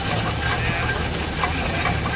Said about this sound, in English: 1927 Foden steam wagon